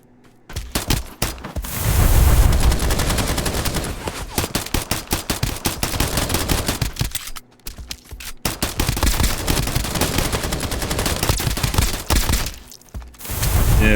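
Rapid pistol gunfire in the video game Escape from Duckov: dense volleys of sharp, loud shots in long bursts, with brief pauses between strings.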